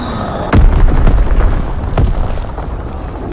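Explosions from a bombing run in Call of Duty WWII: two loud, deep blasts land about a second and a half apart, with a rumbling battlefield din continuing between and after them.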